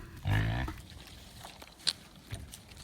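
Pet pigs give a loud, close grunt early on, followed by softer snuffling and a few faint short noises while grazing on grass.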